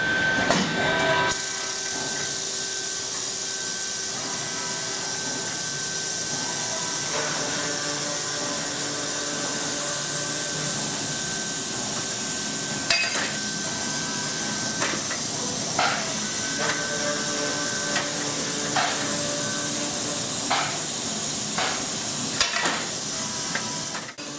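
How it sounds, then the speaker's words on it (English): Steel bars are cut by a chop saw in a grab-hook forging plant, giving a continuous loud hissing roar layered with intermittent metallic clanks and ratcheting mechanism noises. "So this is a chop saw."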